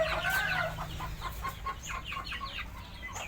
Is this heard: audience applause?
no